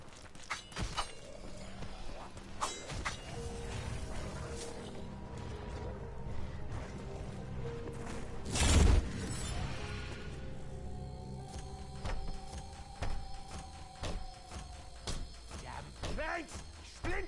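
Creaking, ratcheting mechanism as a crank is turned in Black Ops 4 zombies on the Blood of the Dead map, irregular mechanical clicks amid game sounds and a sharp impact midway, with a character grumbling over it.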